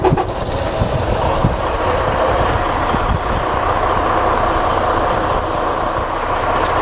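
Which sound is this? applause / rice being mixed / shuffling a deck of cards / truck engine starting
truck engine starting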